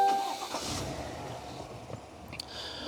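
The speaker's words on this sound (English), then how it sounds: "Starting the car" A 2023 Cadillac Escalade engine turns over and settles into a low, steady idle, heard at moderate volume inside the cabin, with a faint click near the end.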